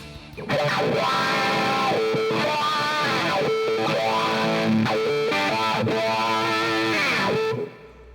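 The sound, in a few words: electric guitar through drive and amp effects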